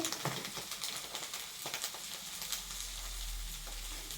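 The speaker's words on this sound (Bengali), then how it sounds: "কড়াইয়ে তেল দিব। কড়াই আমার গরম হয়ে গেছে," Hot oil crackles and hisses in a wok, a dense sizzle with small pops, close and fairly quiet, with a low hum underneath.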